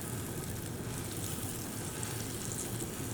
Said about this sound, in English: Just get that little nice sizzle on there.